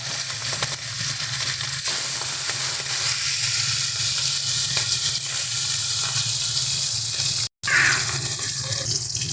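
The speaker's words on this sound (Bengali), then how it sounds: "তেল আমাদের ভালো মতো গরম হয়ে গেছে এক এক করে এবার মাছগুলো দিয়ে ভেজে নেবো" Hilsa fish pieces rubbed with salt and turmeric fry in well-heated oil, giving a loud, steady, close sizzle that runs the whole time with only a brief dropout.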